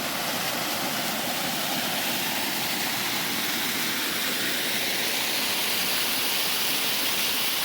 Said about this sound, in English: Very old, this waterfall.